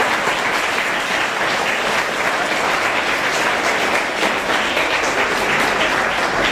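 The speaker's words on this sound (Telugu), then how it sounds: "మీ ఎఫర్ట్స్ కోసం ఒకసారి అందరు క్లాప్స్ కొట్టండి" Loud, dense clapping from a large audience at a road safety program run by the transport department, steady and continuous across the whole stretch with no pause.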